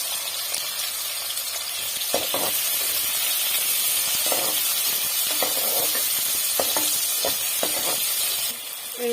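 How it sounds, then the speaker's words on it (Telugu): Cumin seeds crackle and sizzle loudly in hot oil, a dense, close frying hiss with a few sharper pops and stirring sounds, no voices. "ఇదిగోండి, నూనె కాగింది. జీలకర్ర మటుక్కు వేస్తున్నాను."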